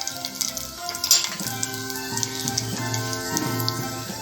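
Ginger and garlic paste frying in two spoons of hot oil in a pan gives a soft, steady sizzle with scattered crackles and light ticking pops. A faint tonal hum runs underneath.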